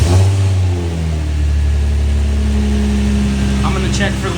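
A Nissan 350Z engine with a newly fitted exhaust runs loud and steady at close range, a deep droning rumble with rising revs, while voices talk over it.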